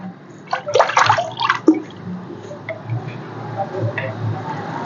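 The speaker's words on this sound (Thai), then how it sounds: "ดูกะทิของเราเดือดนะคะ เดี๋ยวใส่กะทิอีกสักนิดนะคะ" Coconut milk poured into boiling Thai green curry with clown featherback fish, a few wet splashing pours at the start followed by soft bubbling and faint ticks, close by with no talk.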